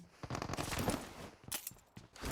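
Rapid gunfire from a PUBG Mobile solo-versus-squad match, dense bursts of automatic shots crackling close and loud, then a short lull before sharper volleys resume near the end.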